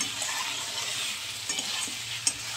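Goat meat with turmeric sautéing in a pan, a soft continuous sizzle under repeated light scraping stirs, fairly quiet and close.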